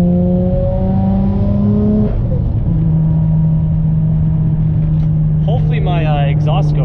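A Nissan Skyline R33 GT-R V-Spec engine revs hard and holds a high steady drone as it climbs a mountain road, shifting pitch partway through, with a brief squeal of tires near the end.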